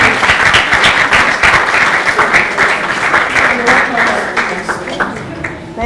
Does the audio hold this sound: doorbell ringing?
no